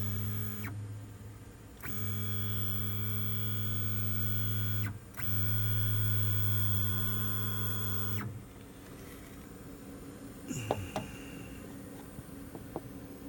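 A Lulzbot TAZ 6 3D printer running straight out of the box, its stepper motors giving sustained tonal whines that hold, break and restart in long segments, then quieter clicks and short moves near the end.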